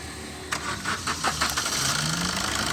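The engine of a Maruti vehicle, just repaired at the fuel rail, cranks with a few quick starter pulses and then catches, settling into a steady idle.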